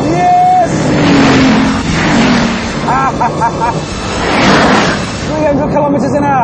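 A Bugatti Veyron engine roars while racing a McLaren F1 at high speed, loud surging tones swelling and falling in waves, with a voice talking over it.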